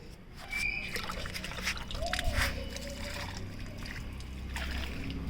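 Water is poured over potted adenium plants, a short sloshing splash and trickle lasting a few seconds, fairly close, with little else around it.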